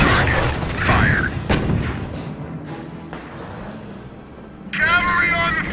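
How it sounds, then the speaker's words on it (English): Cannon fire in the Company of Heroes strategy game, a loud booming shot near the start amid battle noise, with game voice lines speaking over the action. "Cannon on target. Fired."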